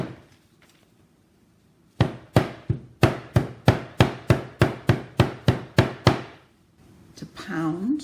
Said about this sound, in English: to pound on the leaves, and that's the process that transfers the ink onto the paper